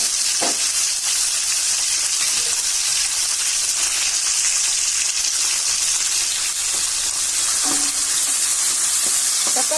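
Tomatoes and onions sautéing in a pan for radish sambar, a loud continuous hiss and sizzle with a few brief stirring knocks, close and steady throughout, no talk.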